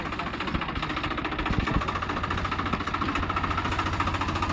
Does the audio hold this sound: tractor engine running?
yes